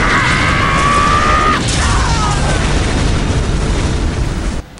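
Vehicle blowing up in an Unreal Tournament 2004 match: a loud, continuous roar of blast and crackling debris, with a sudden burst near the middle and a cutoff at the end.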